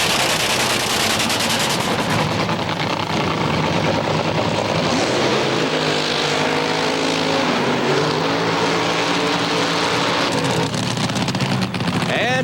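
Top Fuel dragsters racing at the NHRA Matco Tools Supernationals in Houston, a loud, dense, roaring blast of engine noise filling the whole stretch, with a broadcast voice faintly mixed beneath.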